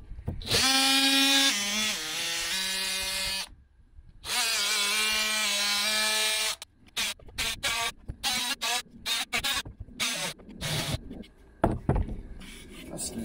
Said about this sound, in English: Look how easy it is to change to a sanding tool.